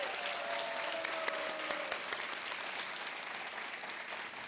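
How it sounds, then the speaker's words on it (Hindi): Steady, dense applause from a studio audience on the KBC game show, filling the whole stretch at an even level with a faint tone sounding briefly near the start. "तालियां बजती रहनी चाहिए"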